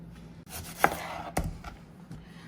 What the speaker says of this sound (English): I'm just going to take this and cut it into little moon pieces, or moon shapes, thin little slivers like this